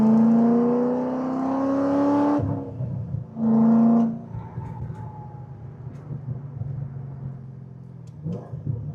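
Cammed Corvette engine revving hard during a third gear pull, rising to a loud high whine, then dropping off. A short second rev follows, and a lower rumble settles in as it coasts.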